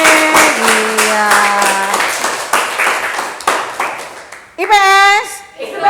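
Classroom applause for a student presentation group, with children's voices talking over a patter of hand claps that thins out toward the end.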